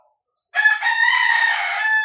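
A White Hatch gamefowl rooster crows once, loud and close, a full drawn-out call of about one and a half seconds breaking a short silence.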